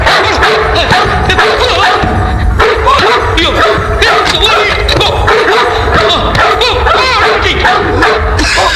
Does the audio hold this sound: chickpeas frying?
no